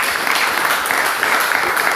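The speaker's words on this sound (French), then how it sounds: "Applaudissons pour sa femme." A church audience claps steadily for a man's praying wife, a dense, even wash of hands that holds at full strength throughout with no voices on top.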